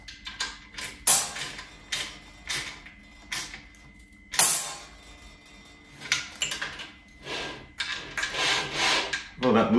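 A home-built CNC plasma table's gantry moves in repeated mechanical runs with rubbing, whirring and clunking passes, close and moderately loud, with brief pauses between movements and no talk.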